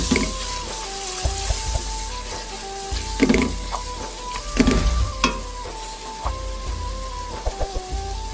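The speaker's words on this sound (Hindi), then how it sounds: "पानी मैंने प्लेट में लेके इसको अच्छी तरीके से हिला के और ये सारा डाल दिया।" Water sizzles and hisses as it is poured into a hot pan of okra with spices, with bursts of spattering and stirring scrapes over a steady background hum.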